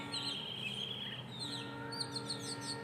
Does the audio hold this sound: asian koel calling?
yes